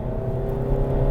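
A 2021 Ford EcoSport Titanium with a naturally aspirated 2-liter engine pulls under acceleration with a steady, loud, close engine drone and no talk.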